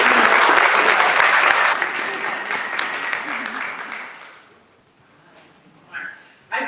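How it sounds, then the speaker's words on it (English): Audience applause at a candidate forum, a dense, loud wash of clapping that holds steady and then fades out, with a couple of brief noises near the end. "Give them a round of applause."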